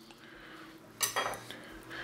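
A knife cuts a mango into small cubes, giving a couple of soft, brief knocks against the board in an otherwise quiet kitchen.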